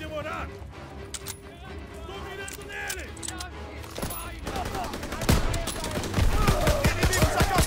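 Gunfire in Call of Duty WW2 multiplayer, bursts of sharp shots and rapid fusillades that grow denser and louder toward the end, with someone talking over the fighting.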